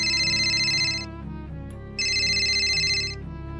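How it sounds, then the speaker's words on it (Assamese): A mobile phone rings indoors with an electronic ringtone melody, playing in two loud repeating bursts separated by a brief pause. "তাৰ ফোনটো বজি উঠিল"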